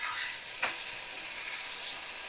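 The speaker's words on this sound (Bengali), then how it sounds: "তো ভালো করে আমি কষিয়ে নিচ্ছি মশলাগুলো," Ground spices with cumin paste fry in a pan as a spoon stirs them, making a soft, steady sizzle with one brief scrape of the utensil, heard close and fairly quiet.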